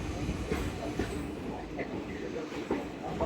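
The Matsyagandha train passes at Kundapura railway station, a steady rumbling roar of the moving train with faint wheel clatter, heard close against a crowded platform.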